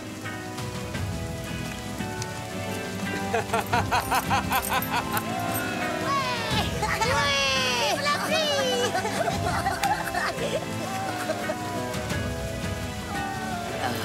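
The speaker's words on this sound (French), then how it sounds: "Enfin, heureusement qu'il pleut." Rain falls steadily over a town scene while people chatter and a lively musical passage plays, the patter of drops sitting under voices and song throughout.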